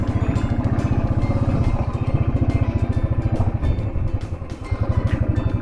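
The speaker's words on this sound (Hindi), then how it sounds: "देखते हैं कैसे पहुंचेगी बाइक ऊपर तक" Loaded motorcycle labouring up a very steep, narrow mountain road on a solo Spiti ride, its engine thumping in a steady, loud pulsing rhythm close by, with no voices over it.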